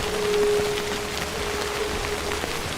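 Steady rain falls in the video game Death Stranding as an even, continuous hiss of drops that holds at a moderate level throughout, with no voices over it.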